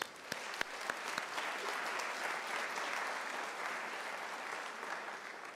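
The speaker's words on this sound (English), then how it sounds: "applause." Sustained applause from an audience at a university autumn graduation ceremony, even and moderately distant, a few sharper claps at the start then a steady wash of clapping with no speech.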